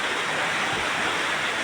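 Floodwater rushing through a street at night during a flood, a dense, continuous roar of flowing water, loud and unbroken.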